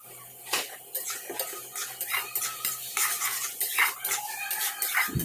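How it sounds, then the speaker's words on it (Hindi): Vegetables cook in a pan on an induction cooktop, a continuous soft sizzle under busy scraping and clattering as a utensil stirs against the metal, close and without talk. "यहाँ मैंने सब्ज़ी चढ़ा दी थी"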